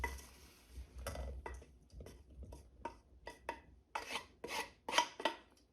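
Chunky eggplant fritter mixture scraped and spooned into a container, a series of quiet rasping scrapes and soft utensil knocks in an irregular rhythm, close and faint with no talk.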